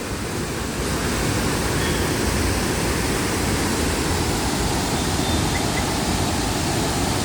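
Charppa waterfall near Athirappilly pouring after heavy rain, a loud, steady, broadband rush of falling water with no breaks, heard close and alone.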